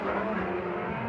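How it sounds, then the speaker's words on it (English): Dirt track race car engine at Placerville Speedway, heard as a steady, moderately distant drone with no talk over it. "I got quiet there because I was listening to the car."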